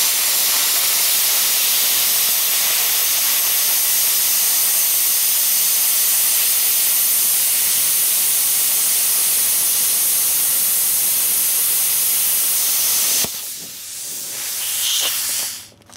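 A DecaPower PMCT-205 plasma cutter cutting metal gives a loud, steady hiss for about thirteen seconds, then cuts off abruptly, leaving softer clattering and noise.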